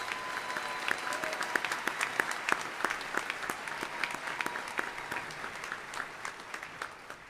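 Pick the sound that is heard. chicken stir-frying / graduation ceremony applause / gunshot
graduation ceremony applause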